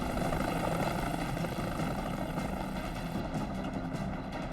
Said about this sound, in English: Medical helicopters transported the critically injured to the mainland.